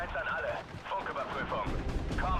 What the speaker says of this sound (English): 6-pounder here is going to be engaging the Panzer 35H.